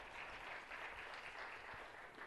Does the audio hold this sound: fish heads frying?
no